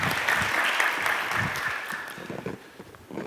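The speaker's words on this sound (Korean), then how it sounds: "하나님께 영광의 박수 함께 올려드리겠습니다." Congregation applauding during a Korean church young adults' worship service: a dense, steady crowd clap that holds strong, then thins slightly toward the end.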